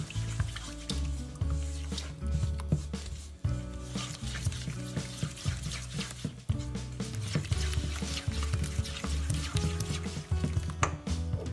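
Cookie cake batter is stirred and folded in a bowl, making wet squishing and sticky slapping sounds in an uneven, repeated rhythm, close and fairly quiet.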